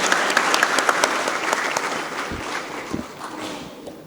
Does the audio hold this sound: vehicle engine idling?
no